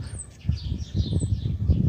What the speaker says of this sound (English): And I hear birds inside the carousel.